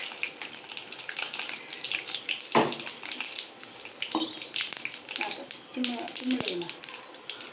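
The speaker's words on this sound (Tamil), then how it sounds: "நல்லா கடுகு உளுந்து இந்த ஜீரகம் எல்லாம் பொரிஞ்ச உடனே" Mustard seeds, urad dal and cumin crackle and spit in hot oil for a pirandai thogayal tempering, a dense, steady sizzle with sharp pops throughout, heard close beneath people talking.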